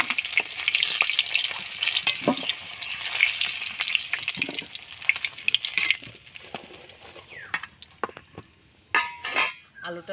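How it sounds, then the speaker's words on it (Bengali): Potatoes browned in hot oil keep sizzling in a dense, close hiss. Stirring scrapes and clinks of a spatula against the pan break through, and near the end the hiss thins into scattered clatters and pops. "আলুটা তো সুন্দর করে ভাজা হয়ে গেছে"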